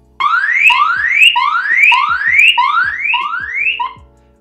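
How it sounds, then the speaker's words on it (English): A loud electronic siren from a Litmor wireless battery security camera sweeping upward in pitch over and over in a quick repeating pattern, about seven rising wails before it cuts off. "so that is the alarm, and that is pretty loud"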